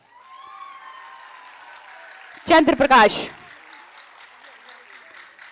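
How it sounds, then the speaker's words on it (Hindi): A brief, loud burst of audience applause for a high-scoring student at a World Disability Day event at Shakuntala University, Lucknow, lasting under a second between stretches of a man's announcement. "एक बार जोरदार तालियां।"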